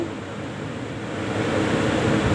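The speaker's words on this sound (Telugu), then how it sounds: "ఇప్పుడైతే ఉల్లగడ్డలు వేస్తున్నాను టమోటా ముక్కలు వేస్తున్నాను ఆయిల్ బాగా హీట్ అయ్యాక ఏగుతున్నాయి" Chopped onions and tomato pieces sizzle in well-heated oil in a pan, a dense, steady frying hiss that swells slightly louder toward the end, with no voices.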